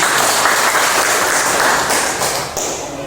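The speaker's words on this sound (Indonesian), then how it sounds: "Oke, tepuk tangan." A school class claps together in a burst of dense, loud applause that fades slightly toward the end.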